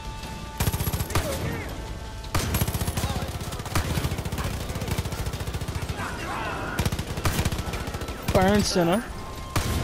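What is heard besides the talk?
shotgun gunfire in the video game Far Cry 5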